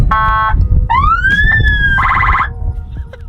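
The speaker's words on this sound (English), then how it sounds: "there are a series of police sirens that you can activate using the panel here" Loud electronic police siren tones from a Rezvani Tank armored vehicle cycle through a wail, a yelp-like warble and rising sweeps, close and clear over a rumbling vehicle background.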